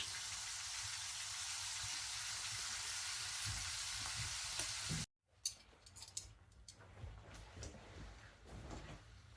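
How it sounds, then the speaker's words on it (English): A couple of small pieces of bacon fry in a pan over a longhunter-style cooking fire, giving a steady close hiss that cuts off abruptly, then resumes with scattered crackles and soft clunks of utensils. "it's not taking very long for that bacon to cook up"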